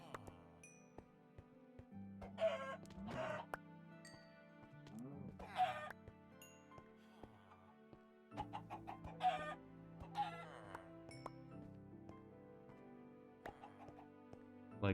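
Chickens cluck in the blocky CubeCraft SkyBlock game world, with several short bursts of clucking over a steady background of in-game music.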